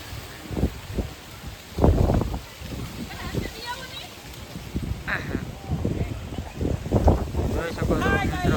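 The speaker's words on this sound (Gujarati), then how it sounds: "મિત્રો આ રીતનું વાવાઝોડું છે" Strong windstorm whipping up dust outdoors roars against the microphone in heavy, uneven gusts, loud and continuous throughout.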